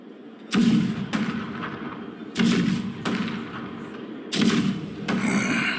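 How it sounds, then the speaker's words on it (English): Booming cannon fire from the Honkai Star Rail game rolls out in about six heavy blasts at irregular intervals, each a sharp deep thud followed by a rumbling decay, with no voices. "The rumble of the cannons."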